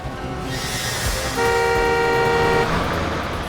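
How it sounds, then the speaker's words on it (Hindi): A car comes along a road in a dramatized scene and sounds a sustained horn blast midway through, held for about a second over the rising rumble of the approaching vehicle. "विवेक देखना जरा कोई गाड़ी आ रही है क्या।"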